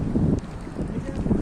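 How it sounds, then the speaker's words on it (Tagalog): Strong sea wind buffets the microphone while people are out crabbing near rocks in Doha, Qatar, a loud gusty rumble that swells and fades unevenly across a brief moment. "Oo, malakas yung hangin. Magalaw."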